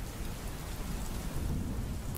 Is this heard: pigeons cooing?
no